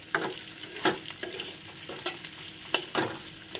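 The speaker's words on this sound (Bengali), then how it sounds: "মশলাটা কিন্তু খুব সুন্দর করে ভাজা ভাজা হয়ে গেছে" Spice masala frying in a pan, heard as a soft steady sizzle broken by several sharp scraping stirs of a spoon, close and alone without talk.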